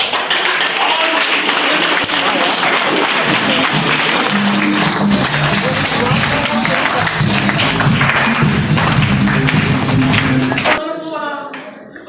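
Loud, sustained applause from a large crowd at an awards recognition event in Varanasi, with voices mixed in, continuing steadily before tapering off near the end.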